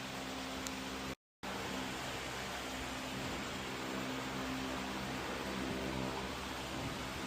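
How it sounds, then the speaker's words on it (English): An electric fan runs in a hot workshop during a hedge trimmer gear repair, giving a steady, close broadband whoosh that holds level throughout apart from one brief dropout early on. "I'm sorry about that fan noise"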